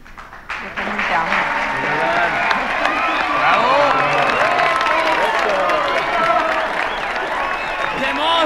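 Wedding guests applaud the newlyweds, a full sustained crowd clapping with cheers and chatter, starting abruptly and holding steady and loud.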